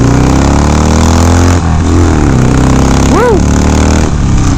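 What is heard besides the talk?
Harley-Davidson Sportster 1200 motorcycle accelerating uphill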